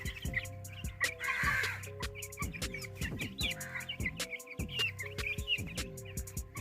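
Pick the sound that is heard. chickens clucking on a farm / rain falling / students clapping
chickens clucking on a farm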